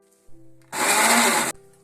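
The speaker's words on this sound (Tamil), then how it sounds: "இட்லி மாவு பதத்துக்கு அரைச்சிக்கணும்." A mixer grinder whirs loudly as it grinds batter for sweet kuzhi paniyaram to an idli-batter consistency, a steady dense roar lasting under a second after a short quieter motor hum.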